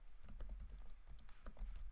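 Rapid, steady keystrokes on a computer keyboard while configuring VLAN switch port settings, a close, continuous clatter of clicks for two seconds with no speech.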